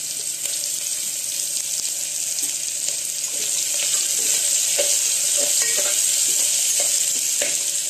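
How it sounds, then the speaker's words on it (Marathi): Mustard seeds, cumin and asafoetida sizzle loudly in hot oil, a dense continuous hiss with scattered tiny pops and crackles close up. "तेल तापले, मोहरी, जिरा आणि हिंग टाकून द्या त्याच्यात"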